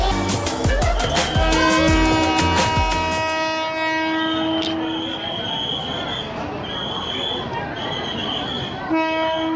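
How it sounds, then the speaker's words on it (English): A train rolls through the center of a busy market in Thailand, first with loud close clattering of wheels and cars, then repeated long horn blasts sounding over a lower rumble. "That was the train that comes through the center of the market."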